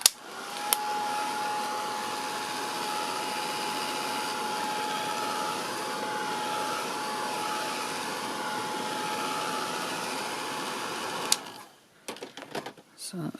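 A heat tool blows steadily to quick-dry sprayed ink on paper, a loud constant whirring hiss lasting about eleven seconds before it clicks off, followed by brief handling noises.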